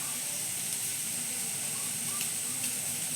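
Ginger dropped into onions frying in oil, giving a steady bright sizzle and hiss throughout, close and even, with a couple of faint ticks and no voices.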